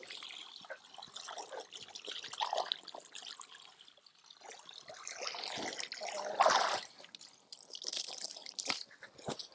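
A water hose runs into an animals' water tub outdoors, giving a close, uneven splashing and trickling with occasional louder gushes and handling bumps.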